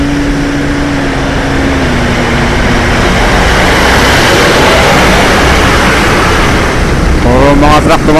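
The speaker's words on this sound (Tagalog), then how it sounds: "Mga truck dumadaan dito eh." Traffic noise from trucks passing on a road in heavy rain, a loud broad rumble with a low engine drone fading in and out, with faint sounds at the end.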